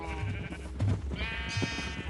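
Sheep bleat on a farm in a barn, several wavering cries close together over a low background of livestock noise, fairly faint overall.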